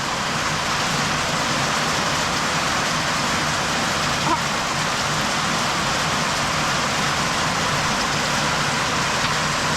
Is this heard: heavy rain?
yes